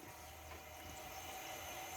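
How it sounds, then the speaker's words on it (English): An APEC reverse osmosis drinking water system installed under a sink fills its filter units, giving a faint, continuous hiss and trickle of water flowing through the tubing. "We got the unit turned on, and it's filling the filter units up."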